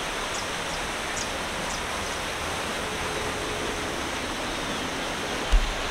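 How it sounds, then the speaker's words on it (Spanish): Small waterfall beside a river, a constant broad rushing of falling water heard from a distance, steady throughout, with faint bird chirps above it. "caída de agua que está del lado de allá."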